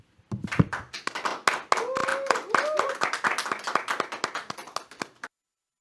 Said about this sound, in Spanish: y también para el cual pido un aplauso.